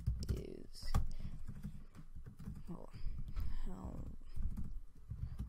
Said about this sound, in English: I'm just gonna do some typing.